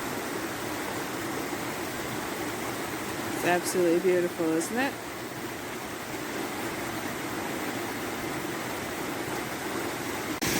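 A river flows steadily as a broad, even rush of water that holds from start to finish, with a short spoken remark rising briefly over it midway.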